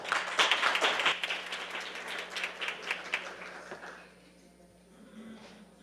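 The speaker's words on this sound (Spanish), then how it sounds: "le damos un aplauso a Sofía Bryan" An audience applauds at a parliamentary meeting, with a burst of clapping that tapers off and fades into quiet room tone after about four seconds.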